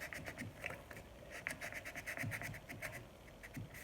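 A knife cutting into styrofoam for homemade Halloween props, faint close scratchy squeaks and rasps in quick uneven strokes, quiet and without talk.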